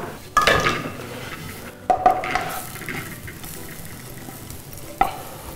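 Grated coconut is stirred and roasted in a pan, with a soft continuous sizzle and three sharp clanks of a spoon against the metal, heard close up.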